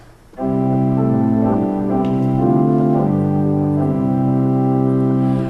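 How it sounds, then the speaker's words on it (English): A pipe organ principal stop sounds sustained chords, bright yet mellow, changing harmony a few times with no talking. "the front row of pipes is a principal stop that sounds like this"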